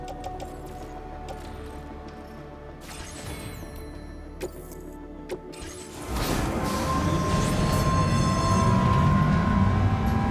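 Train passing in the video game Death Stranding 2, starting with scattered mechanical clanks and clicks, then swelling after a few seconds into a loud, sustained rumbling roar with a high tonal whine on top.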